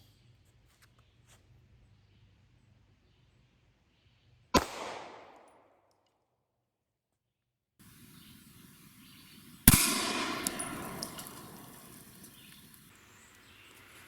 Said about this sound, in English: Cantaloupe versus the Glock 43 9mm.